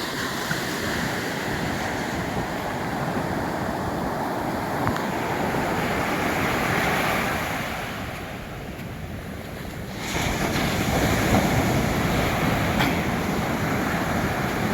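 Sea waves roll in at Chandrabhaga beach in Konark, near Puri, where fishing boats come ashore: a steady, loud roar of surf mixed with wind buffeting, easing briefly before surging back, with no voices.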